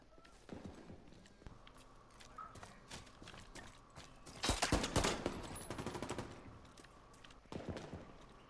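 Gunfire in The Division 2 crackles as scattered sharp shots and a dense burst of rapid fire midway, mixed with footsteps and game ambience at moderate volume.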